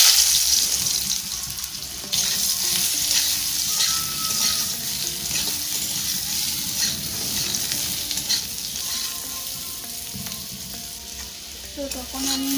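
Boiled potatoes dropped into hot oil in a wok sizzle loudly and continuously, a dense frying hiss with occasional stirring clatter throughout.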